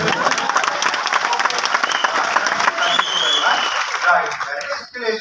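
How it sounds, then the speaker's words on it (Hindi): A seminar audience at a leadership development program claps together in sustained, dense applause that tapers near the end, with voices mixed in. "ताली किसके लिए बजा रहे?"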